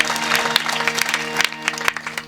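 Audience applause at a Marathi kirtan, a dense patter of many hands clapping with a few sharper claps standing out, steady and fairly close, continuing for a couple of seconds under a faint tonal drone.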